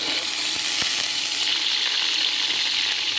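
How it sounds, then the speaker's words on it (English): Garlic, a teaspoon of it, sizzles in hot oil with a continuous bright crackling hiss that swells louder partway through, with a couple of faint utensil taps early on and no talking. "we're gonna put some oil in it. 1 teaspoon of garlic."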